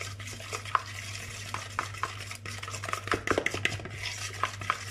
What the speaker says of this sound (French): je mélange toutes mes épices